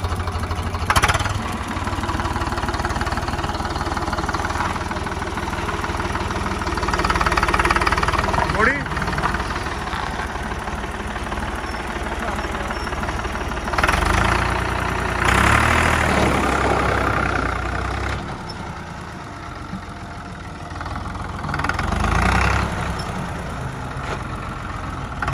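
A Swaraj 735 tractor engine idles steadily with a low diesel rumble through the whole stretch, its pitch shifting slightly at moments, with voices talking over it.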